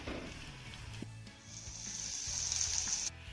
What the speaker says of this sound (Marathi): आता हा कांदा देखील आपल्याला हलक्या सोनेरी रंगावरती छान असा परतून घ्यायचा आहे